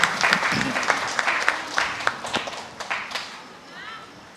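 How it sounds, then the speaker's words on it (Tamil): Audience applause at the 80th-anniversary chariot festival Mass of St. Sebastian's chapel in Kuvalakudi: scattered, uneven claps from a crowd, louder at first and then thinning out and fading toward the end. "நல்ல கரவொலி எழுப்பி இவர்களை நாம் பாராட்டுவோம்."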